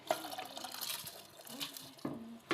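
Water trickles and splashes faintly into a cooking pot in a home kitchen, a soft, continuous pour with a few small drips.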